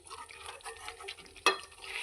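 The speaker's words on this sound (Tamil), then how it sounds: "நல்லா கொதிச்சிருச்சு சிக்கன் கிரேவி ரெடி" Thick chicken gravy bubbles and sizzles steadily in a pan, with a sharp scrape of stirring near the end.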